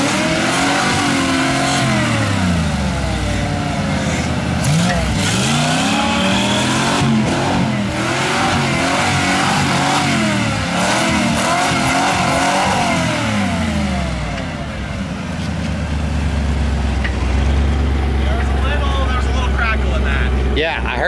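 A Ford Bronco engine fitted with Holley Sniper EFI revs repeatedly, rising and falling loudly with a sticky throttle, then settles into a steady low idle rumble near the end as people talk over it.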